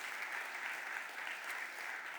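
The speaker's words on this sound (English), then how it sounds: "Please give Jerry Sweeney a thank you round of applause." Brief burst of audience applause in the Philadelphia City Council chamber during a mayoral budget address, dense and even clapping at moderate level filling the whole moment.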